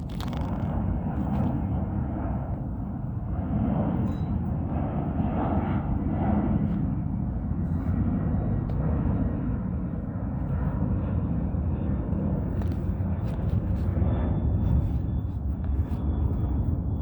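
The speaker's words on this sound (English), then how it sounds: "that is the audible activity as though a plane is taking off over here" A continuous low roar like an aircraft engine during takeoff fills a city street at 2 a.m., loud and unbroken, with faint higher clicks and hiss over the heavy rumble.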